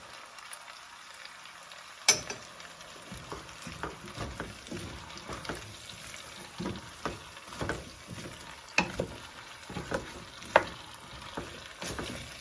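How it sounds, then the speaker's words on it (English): Minced garlic and salt being stirred into a pot of cube-steak stew, with a low sizzle under repeated scraping strokes of a spoon against the pot, close and moderately loud, no talking. "I'm just giving everything a really good stir, getting it all nice and coated"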